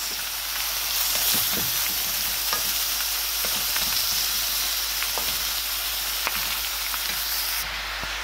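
Shredded cabbage is stir-fried for homemade noodles, hissing and sizzling loudly in a hot pan with steady frying noise and occasional scraping stirs from a utensil, with no talking.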